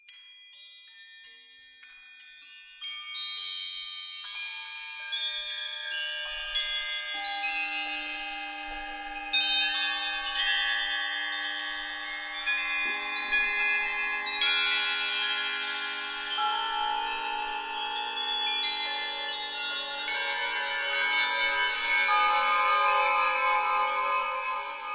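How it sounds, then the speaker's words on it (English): A stretched Soundpaint windchime sample rings out in layered, sustained metallic tones that build and overlap like distant church bells, dense and shimmering for the full length with no voices. "It totally sounds like church bells."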